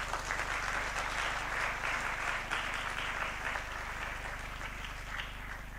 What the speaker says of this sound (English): Clap for yourself, please.